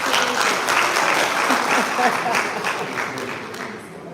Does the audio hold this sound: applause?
yes